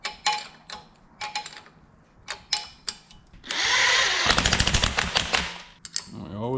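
A wrench or breaker bar gives a final check on timing kit bolts during a 120k timing service on a Nissan 300ZX, heard as sharp repeated clicks and clanks in short bursts, then a loud sustained rattling stretch, close by.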